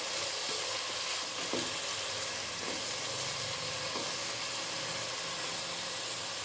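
Onions and tomatoes fry in a pan for vegetable rice, giving a dense, even sizzle throughout. Faint stirring taps break through now and then.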